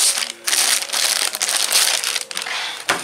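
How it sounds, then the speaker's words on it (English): Close, continuous crinkling and rustling of a thin plastic bag being opened after its tape is peeled back, about three seconds, with a sharper crackle near the end. "Just peel the tape back, open the bag up"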